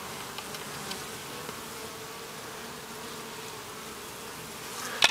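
Honeybees buzzing steadily at an open hive that holds laying workers, a dense continuous hum with no voices, ending in a brief louder rustle close by.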